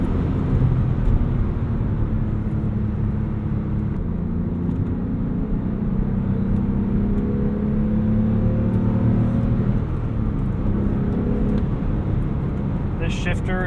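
A 2008 Porsche 911 Carrera engine drones steadily and loudly as it climbs toward 6,000 rpm, a continuous rising growl with someone talking over it.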